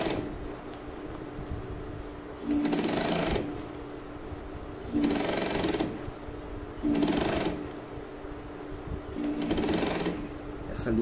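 Sewing machine stitching denim trousers with thick topstitch thread, running in four distinct bursts of a couple of seconds each with brief pauses between.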